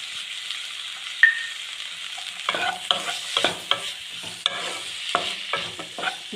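Tomatoes and washed dried prawns stir-frying in a pan for a tender jackfruit curry, giving a steady sizzle broken by repeated scraping strokes of a spoon against the pan, close and fairly loud.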